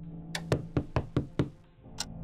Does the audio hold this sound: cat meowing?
no